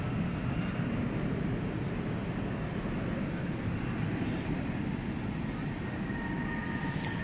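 Steady broadband jet roar from an MD-11 departing on the east side of DFW Airport at night, a continuous distant rumble holding level throughout with no talk.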